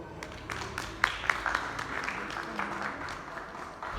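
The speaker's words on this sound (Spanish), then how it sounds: "para quien pido un muy fuerte aplauso, por favor." An audience at a forum on Lenin applauds to welcome the moderator, with moderate, steady clapping and a few sharper claps standing out, heard at some distance.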